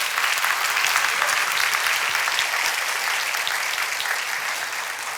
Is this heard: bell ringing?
no